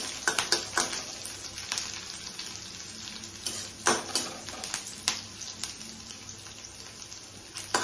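Grated onion frying in a pan for a soybean kofta curry, a steady hiss with scattered sharp crackles and clinks throughout, fairly quiet and close with no talking.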